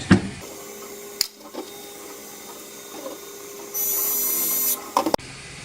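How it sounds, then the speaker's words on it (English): M4 bolts are driven into a 3D-printed frame: a few sharp clicks and handling knocks, then about a second of steady mechanical whirring, followed by more clatter at close range. "secure them with an M4 bolt and just make it snug"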